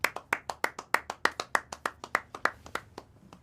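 A group of people clap in a steady, even rhythm, about fifteen sharp claps in quick succession that stay close and loud with no talking.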